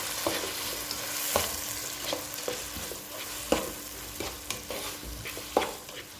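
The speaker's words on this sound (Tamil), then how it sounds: "இது வெங்காயம் கொஞ்சம் நல்லா வதங்கட்டும்" Sliced onions sautéing in oil in a pan, a steady frying sizzle with intermittent stirring scrapes and clicks, no talking.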